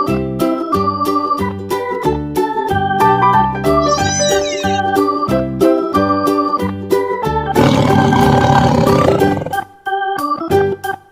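A tiger's roar bursts out for about two seconds, loud and rough, over a bouncy children's tune with plucked, steady beats.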